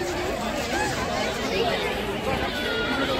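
Dense crowd chatter fills a busy Eco Park, a steady wash of overlapping voices with no single speaker standing out.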